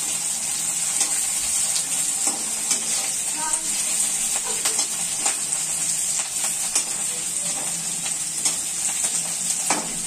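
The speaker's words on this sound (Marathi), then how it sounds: "शिमला मिरची आपण मस्तपैकी तेलामध्ये परतून घेणार आहोत" Chopped capsicum frying in oil for chicken chilli, a bright continuous sizzle with scattered crackles and stirring scrapes, close and steady for the whole stretch.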